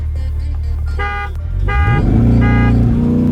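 A car horn honks three distinct times in quick succession at a drag racing meet with a C8 Corvette and Tesla Model 3 Performance, loud and close, followed by a vehicle engine droning low and rising.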